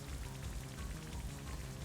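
Steady rain from the Rain Dance move in a Pokémon video game battle with Dialga, a dense continuous patter of falling drops at an even level throughout.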